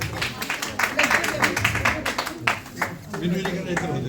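Applause from a gathered audience welcoming a guest at a temple during a kirtan and honour ceremony, a dense spread of hand claps lasting a few seconds, fairly close and loud, with voices mixed in.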